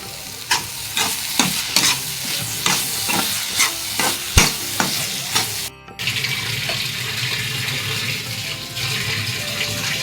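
Tomatoes frying in a pan: a loud steady sizzle with rhythmic scraping stir strokes about every half second, then a brief cut and a continuous hissing fry with no talking.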